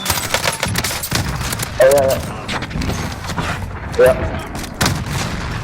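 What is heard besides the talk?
gunfire in Call of Duty Warzone video game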